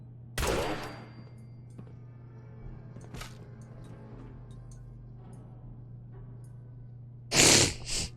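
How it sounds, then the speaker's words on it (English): Gunshots in Fallout 4: a sharp, close shot followed by a quieter one a few seconds later and a louder blast near the end, over a steady low hum. "I'm gonna shoot this guy in the head"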